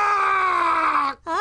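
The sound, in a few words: man screaming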